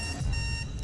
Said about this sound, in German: Ich habe einen Alarm ausgelöst